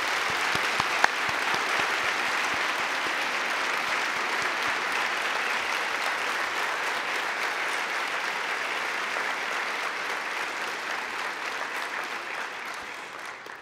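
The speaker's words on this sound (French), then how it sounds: "Applaudissons nos invités d'honneur." Sustained audience applause for honoured guests at a university education faculty graduation ceremony, a dense, even roar of clapping that fills the hall and runs steadily throughout.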